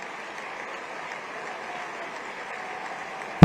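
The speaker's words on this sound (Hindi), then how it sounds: "भाई जोर से ताली बजाइए जरा पूरा सदन" Steady, moderately loud applause from an audience in a hall at a startup conclave in Gandhinagar, a continuous even wash of clapping with no talk over it.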